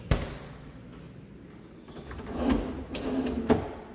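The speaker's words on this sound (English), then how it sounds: "That's the uh, soft close drawers." A soft-close drawer in a kitchen with stainless steel appliances glides shut with a muted rolling slide and soft thumps, close by, with no one talking.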